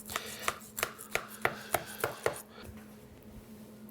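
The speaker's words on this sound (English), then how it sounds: "here's our kugel, potato kugel. Slicing, slicing, slicing," Knife slicing through a potato kugel in a pan, about eight regular sharp cuts tapping against the dish in quick rhythm, then fading to quiet.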